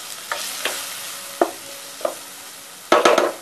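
Spices, including Agri masala and garam masala, being sautéed and stirred in a pan, a soft sizzle under a few sharp scraping stirs, the last burst of scrapes louder and quicker, with no talking.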